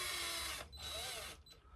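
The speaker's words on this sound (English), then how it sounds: "I've got my old trusty drill." An old cordless power drill running in two short bursts, whirring at steady speed then stopping briefly before spinning again, close and moderately loud with no talking.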